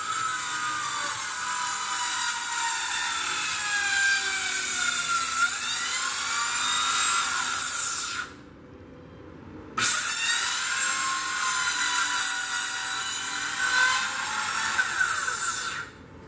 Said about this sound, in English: the ship right here is very carefully removing pieces of wood to get to the fasteners that are holding this plank onto the ship